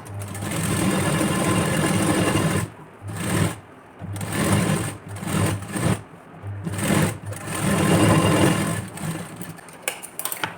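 A sewing machine stitches a double line of stitches along the neckline of a padded blouse, making a close, loud, rapid mechanical whir in bursts with short pauses between runs.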